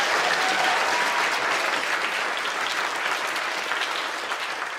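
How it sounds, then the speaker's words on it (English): Loud, dense applause from a live audience, many hands clapping together and tapering slightly toward the end. "So a big round of applause for you two."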